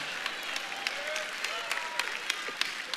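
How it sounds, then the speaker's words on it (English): Congregation clapping during a church sermon, a steady spread of applause filling the room with sharp individual claps standing out, moderately loud and continuous throughout. "Y'all clapping."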